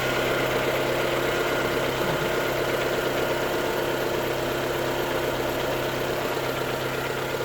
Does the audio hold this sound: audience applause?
no